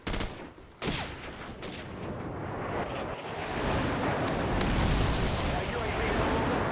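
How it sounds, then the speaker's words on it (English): Airstrike explosions in the Call of Duty 4 video game: a sharp blast near the start, then a dense, rolling roar of detonations and gunfire that swells and stays loud to the end. "Friendly airstrike on the way."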